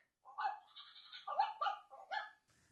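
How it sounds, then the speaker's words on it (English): Dog-E interactive robot dog giving a series of synthetic, electronic-sounding barks, about five yaps in an uneven rhythm, close and fairly clear over a silent background. "And down here, I can tell it to bark."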